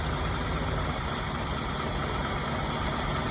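A car engine runs steadily at a constant drone, heard close and continuous with a faint vibration, no voices.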